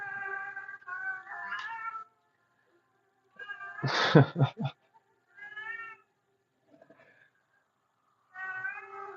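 A cat yowls and meows repeatedly in drawn-out, wavering cries, with short silent gaps and one louder, harsher burst in the middle.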